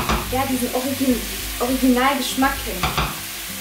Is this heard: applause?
no